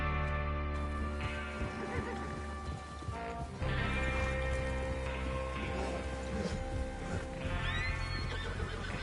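Horses in Red Dead Redemption 2 whinny loudly up close while hooves clip-clop steadily as riders move out. Rain patters on surfaces beneath them throughout.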